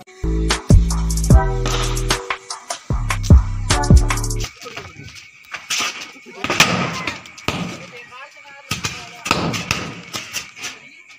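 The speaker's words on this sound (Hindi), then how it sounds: "अब दिवाली का मजा लेते हैं, पटाखे वगैरह फोड़ते हैं" Diwali firecrackers burst at a home celebration: heavy booming thuds come first, followed by a string of sharp crackling pops near and far, with people talking in between.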